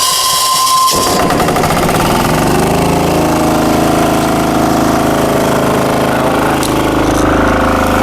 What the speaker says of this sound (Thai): มาช่างอรุณลองมาสตาร์ทเครื่องกัน